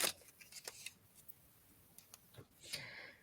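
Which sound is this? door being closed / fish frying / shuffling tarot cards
shuffling tarot cards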